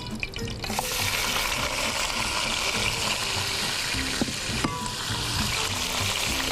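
Cooked mutton frying in a pot with black cardamom, cloves and whole black peppercorns, a loud continuous sizzle and hiss with occasional stirring scrapes.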